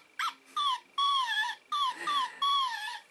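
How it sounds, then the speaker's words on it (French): Close to the microphone, a battery-powered toy puppy in its little basket lets out repeated synthetic barks and drawn-out whimpering whines in about six evenly spaced bursts, with no voices over it. "il aboie, il gémit."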